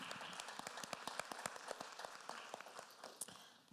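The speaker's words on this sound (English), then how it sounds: "A round of applause for our panelists" Crowd applause for a panel, a steady patter of many hands clapping, fairly faint and distant, slowly tapering off.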